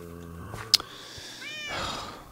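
A cat meows in the video game Minecraft, a couple of short, clear mews standing out over the game's background sounds and a brief click.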